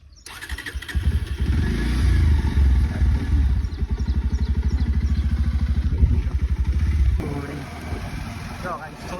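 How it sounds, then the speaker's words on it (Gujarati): A motorcycle engine starts and runs with a rapid, throbbing putter on a ride out to a farm, loud and close, easing off toward the end as a voice talks over it. "થોડુંક જવાનું પણ આપણે બાઇક લઈને જઈ રહ્યા"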